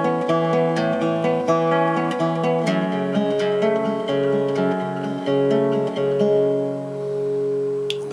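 Guitar playing the chord change from a song rings out as arpeggiated, picked notes with a fretted note on the fourth string, a steady flowing pattern heard clearly and without any talking.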